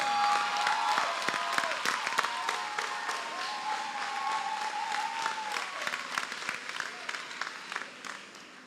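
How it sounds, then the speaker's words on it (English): An audience at a discipleship training school graduation claps for Vanya in steady, moderately loud applause, with a sustained tone and scattered voices running underneath. "So if you could just clap for Vanya, she has been such a blessing."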